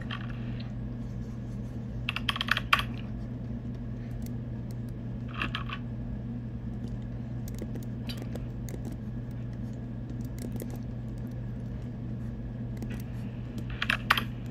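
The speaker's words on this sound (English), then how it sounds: "Why is your keyboard Typing." Computer keyboard typing during a casual stream, short bursts of clicky keystrokes at a few moments over a steady low hum, fairly faint.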